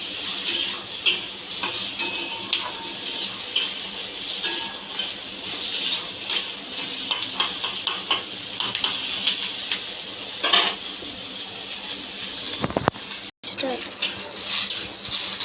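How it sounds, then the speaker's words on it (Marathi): Chopped onions fry and sizzle in a pan for a Maharashtrian masala curry, with a constant crackling hiss broken by repeated sharp scrapes and clinks of a spoon stirring against the metal. "आपला का कांदा चांगला फ्राय झाला आहे"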